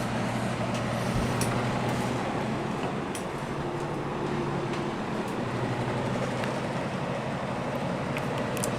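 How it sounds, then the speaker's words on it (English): A vintage GE F11W16 box fan with a loud motor runs steadily, giving a constant broad whoosh with a low hum beneath it and no voices. "It's running nice and smooth now. It just has a really loud motor."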